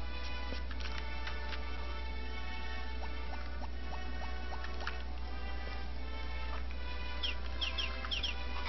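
Farm chickens cluck and chirp in short scattered bursts over a steady low hum, moderately close, with no one talking.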